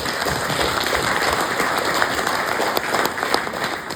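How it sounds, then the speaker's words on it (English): Audience applause during a mayor's annual Christmas address, a full, even roar of many hands clapping that holds steady and fairly loud for several seconds with no talking over it. "Please give her a round of applause for that."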